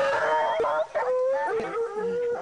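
Tracking dogs howl on a jaguar's scent: several close, loud, wavering howls overlap, with a brief break midway before the baying resumes.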